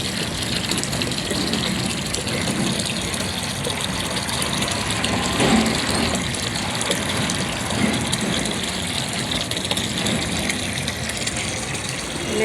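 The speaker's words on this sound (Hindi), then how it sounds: "चलिए बाल्टी का पानी भर गया।" Water from a pump gushes steadily into a bucket, a continuous rushing splash with a low pump drone beneath, close by and without talk.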